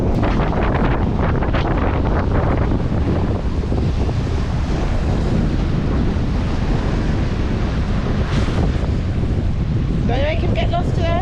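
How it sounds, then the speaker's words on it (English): Strong wind roars across a beach with waves surging underneath, a constant loud buffeting rush against the microphone; a voice is heard briefly near the end. "It is so windy."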